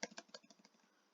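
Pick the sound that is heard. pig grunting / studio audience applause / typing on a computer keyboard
typing on a computer keyboard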